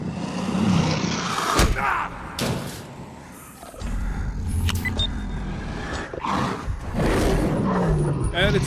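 Lion roaring in the video game Vivisector: Beast Within, with several loud roaring bursts broken by sharp impacts and a brief lull, all close and intense.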